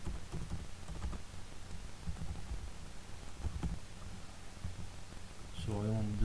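Scattered clicks and taps of someone typing C++ code on a computer keyboard, quiet and irregular, with a brief voice breaking in near the end.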